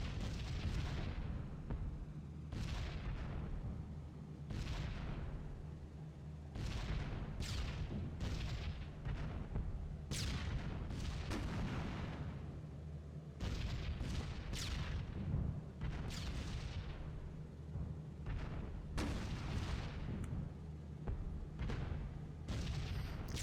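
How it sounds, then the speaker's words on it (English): Light anti-aircraft flak bursts around a B-17 bomber in a World War II flight simulation, scattered muffled thuds and booms rising over a constant droning engine hum, moderately distant and irregular, without speech. "Very light flak, actually."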